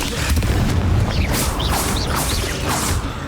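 A Confringo fire spell blasts in Hogwarts Legacy on the Switch: loud, booming fiery bursts and whooshing swishes that roll on continuously.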